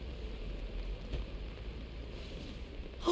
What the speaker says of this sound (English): Oh, good! The rain's starting to let up.